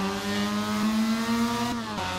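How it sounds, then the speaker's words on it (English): Mazda race car in the Assetto Corsa racing game, its engine holding a steady high droning rev with a slowly rising pitch, then a quick dip and short surge near the end, heard alone without talk. "As the engine revs just died in the middle of the braking zone"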